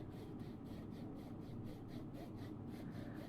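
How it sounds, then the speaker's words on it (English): A hand saw cuts wood for a half lap joint with steady, rhythmic strokes, a faint, even rasp pulsing roughly four times a second under low background noise. "So sawing right down to the bottom where you've drawn your line."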